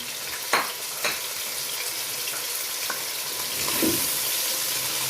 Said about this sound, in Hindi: ये चिकन तकरीबन हमारा फ्राई हो चुका है